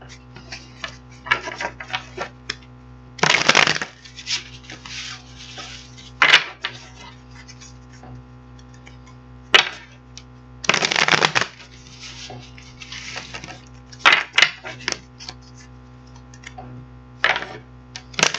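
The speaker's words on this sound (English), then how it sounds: "So we're going to get these cards shuffle up for you" Tarot cards are shuffled in several loud bursts of riffling and flicking, separated by quieter stretches with light taps and handling of the deck, close and clear, with no talking.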